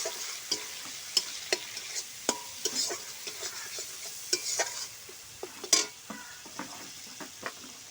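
Cumin and turmeric powder fry in a pan for a silver carp fish curry, with repeated sharp spatula scrapes and taps over a quiet, steady sizzle.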